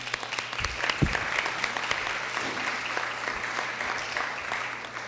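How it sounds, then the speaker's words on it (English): A crowd at a flood relief town hall meeting claps steadily for a community group, a dense, even patter of many hands that carries on without pause. "Give them applause."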